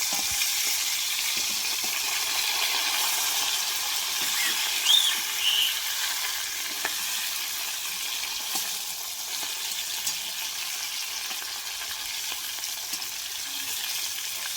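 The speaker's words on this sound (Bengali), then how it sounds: "মাছটা ভেজে নিচ্ছি।" Fish frying in a pan in a home kitchen, a steady soft sizzle and crackle of hot oil holding at an even level throughout.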